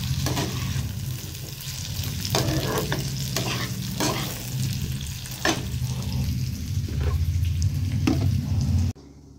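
Potato, taro and eggplant sautéing in spiced oil, with a steady loud sizzle filling the clip and repeated scraping stirs every second or so, the frying noise cutting off abruptly near the end.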